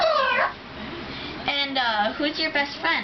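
A pet parrot imitates a cat's meow, giving a few drawn-out, wavering cat-like cries just after someone speaks, close and clear indoors, and her voice also comes through in the room.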